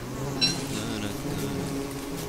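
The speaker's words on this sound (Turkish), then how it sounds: "Arılar. Arılar." Bees buzzing in the video game Don't Starve, a steady low drone with a brief brighter chirp early on, sitting under a faint background tone throughout.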